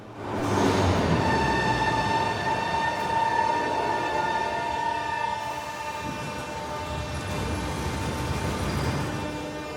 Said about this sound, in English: you can still take a ride on a classic metro train built in the final years of the Soviet Union